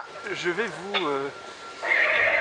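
A horse at a leisure park whinnies loudly and close, a single wavering neigh lasting about a second, followed by a person speaking.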